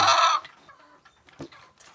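A loud chicken squawk opens, followed by quieter scattered clucks from a few birds nearby.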